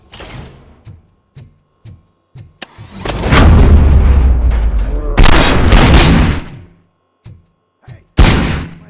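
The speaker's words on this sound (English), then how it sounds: "Am I hearing gunshots?" Loud bursts of gunfire erupt in clusters in the video game RoboCop: Rogue City, with sharp isolated shots and booming blasts separated by brief quiet gaps.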